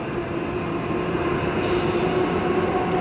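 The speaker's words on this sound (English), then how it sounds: "It's an A series, B series, okay, it's a B series." A Perth B series electric train passes through Subiaco station, a loud steady rumble and rail roar filling the whole stretch without talk.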